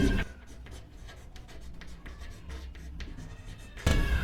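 Chalk or marker writing on a classroom board during a Hindi-language maths lesson on the elimination method, heard as soft scratchy strokes in short bursts that continue steadily, with a louder bump near the end.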